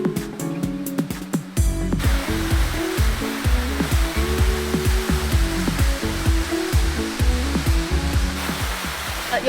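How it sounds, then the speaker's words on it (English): A Bali waterfall roars as a continuous loud rush of falling water close by, a dense steady wash under music with plucked, rhythmic notes. "Back to the waterfalls of Bali."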